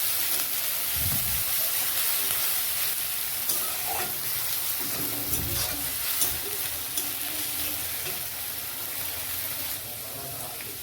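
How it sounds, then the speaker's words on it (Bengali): Loud, steady hissing sizzle of chopped onion frying in a pan with whole spices for a Bengali yogurt katla fish curry, with low scraping thuds of stirring now and then, close up and without talk. "পেঁয়াজটাকেও বেশ ভালো করে নেড়ে চেড়ে ভেজে নেবো"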